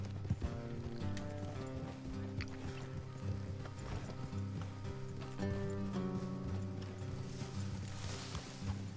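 Steady clip-clop of horse hooves trotting along in Red Dead Redemption 2, rhythmic and continuous, mixed with music and ambient game sounds.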